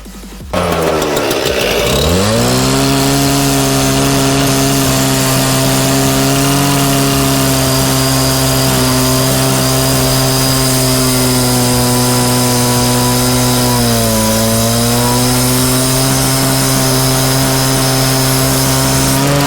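A two-stroke petrol cut-off saw fires up after a brief pull and settles into a loud, steady, buzzing idle close by. Its pitch dips and recovers once partway through, with no talking over it.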